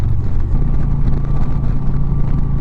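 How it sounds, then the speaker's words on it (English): Heavy wind buffeting roars past a motorcycle rider travelling at 70 mph with a Freedom windshield, a loud, continuous low rumble with engine drone underneath. "riding at 70 and above, there's just a lot of wind buffeting"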